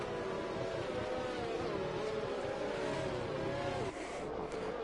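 A pack of race cars in a racing video game crawls behind a safety car on the Belgium circuit, engines humming at a steady, low drone, soft and unbroken without talk.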